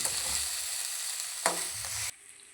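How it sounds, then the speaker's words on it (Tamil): Onions sautéing in a pan with ground rock salt, a steady loud sizzle with a brief stirring scrape partway through before the frying noise drops away abruptly near the end. "கல்லுப்பு வச்சு வச்சு நல்லா வதக்கலாம்"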